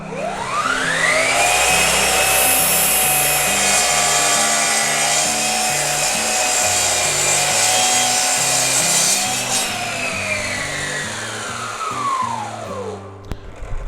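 A Bosch GCM 18V-305 GDC sliding mitre saw running at 4000 rpm cuts through wood. A whine rises as the blade spins up, then a loud, sustained, rasping cut follows before the motor winds down at the end.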